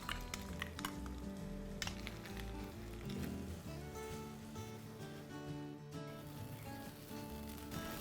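Ginger garlic paste sizzles steadily in a pan of onions and whole spices for chicken xacuti, a constant frying hiss with faint clinks and a tonal hum underneath.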